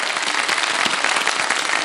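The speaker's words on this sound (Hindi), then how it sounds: "बहुत सारी तालियां बजा दें भाई" Studio audience at a televised Ramadan quiz competition clapping together, a dense, even burst of applause that holds steady for the whole short stretch with no voices over it.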